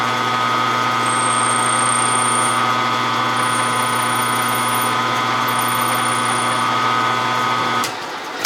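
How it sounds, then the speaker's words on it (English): Spot drill cutting metal on a Supra vertical CNC mill: a steady loud motor and spindle drone with a high whine that comes and goes, stopping abruptly near the end. "I actually should be using a bigger spot drill because I like to have a little bit of a chamfer on the threads."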